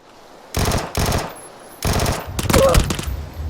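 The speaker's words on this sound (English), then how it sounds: "Yep, he has a UMP, it sounds like." A UMP submachine gun fires in PUBG, heard as rapid full-auto bursts separated by short pauses, loud and close, with a final longer burst mixed with other game sounds.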